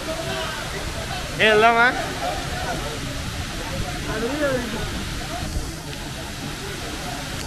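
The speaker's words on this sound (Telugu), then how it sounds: "ఇదిగోండి మన వాటర్ ఫాల్." A constant rushing roar of falling water from Lakkam Waterfalls in Munnar fills the background while a person speaks briefly near the start.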